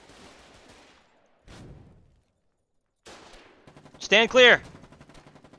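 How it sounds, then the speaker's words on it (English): Rifle garrison defensive emplacement firing in the war game Foxhole, a loud close burst of rapid shots around the four-second mark, with someone speaking before it and quieter crackling gunfire following. "The rifle garrison is shooting at me."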